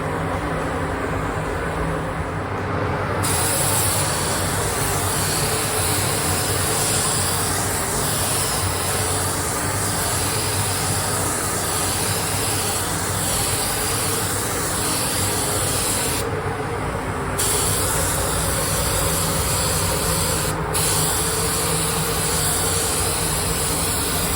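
A spray gun applies candy purple paint over a violet base coat on a kids' Power Wheels ride-on toy, producing a loud, continuous hissing spray that runs nearly unbroken with brief pauses between passes.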